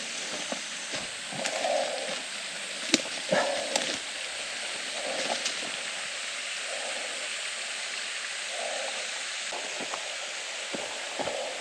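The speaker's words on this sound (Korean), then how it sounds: "폭포 한번 보겠습니다." A waterfall on Naebyeonsan's Samsinsan mountain gives a steady, even rush of falling water, heard alone at moderate level with a few faint knocks and scuffs over it.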